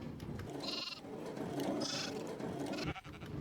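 Sheep in a Minecraft wool farm bleat in a couple of short, nasal calls over a steady low background hum, fairly close and alone without talk.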